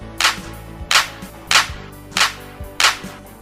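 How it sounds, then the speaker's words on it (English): Children clap five times in unison, five sharp, evenly spaced claps about half a second apart, loud and close, with short gaps of quiet between them. "Give yourselves 5 resounding claps!"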